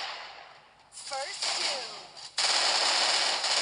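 An MP5 submachine gun fires in a video game, with short bursts of rapid shots and a louder sustained burst near the end, heard close amid game effects.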